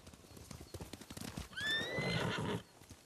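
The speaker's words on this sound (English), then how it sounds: "Horse!" A samurai horse in the game Ghost of Tsushima: soft hoof clops lead into a single clear, rising whinny, close and fairly loud, then fading.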